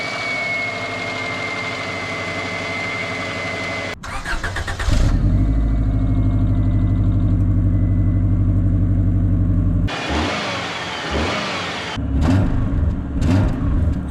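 A Subaru engine fitted with a new spark plug cranks briefly, catches with a loud roar, and settles into a steady close idle, with a second cranking and restart later on; no voices.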